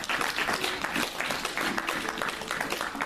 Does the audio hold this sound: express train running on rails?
no